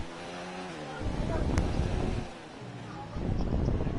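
An F1 car engine in a video game race at Russia, qualifying session, revs out in rising and falling high-pitched surges, loud and close, with a brief dip before climbing again.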